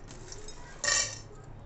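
Dry kadha spices such as nutmeg, cloves and dry ginger dropped into a pan, giving one brief clink of hard pieces striking metal partway through an otherwise quiet moment, with no talk.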